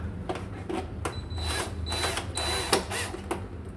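A power tool whirs in repeated short bursts, driving out the nuts beneath the base of an Extra Pure alkaline water filter, with mechanical clicks and a thin whine between pulses, close and loud.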